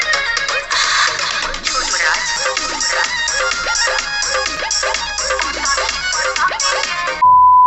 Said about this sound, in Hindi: स्पीकर्स की बात करें तो बढ़िया से आपको यहाँ पे गाने वाने बजा के दिखा देते हैं।